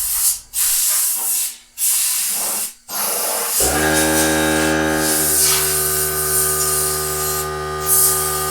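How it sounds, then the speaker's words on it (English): An air compressor nozzle blasts loose rust and dust off a steel trailer frame, a loud steady hissing rush of air after a few short bursts, close and continuous with a ringing tonal whine underneath. "Now the next noisy part, air compressor."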